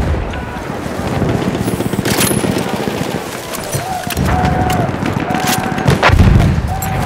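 Machine gun fire rattles through a Battlefield 1 battle, dense broadband bursts of gunshots and distant artillery booms layered continuously over the seven seconds, with short tonal game effects in the background.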